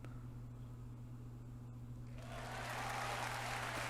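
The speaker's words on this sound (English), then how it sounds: "There was a huge wave of applause." Applause effect from the visual novel game Steins;Gate 0, a dense wash of clapping that swells in suddenly halfway through over a steady low hum, then holds at moderate loudness.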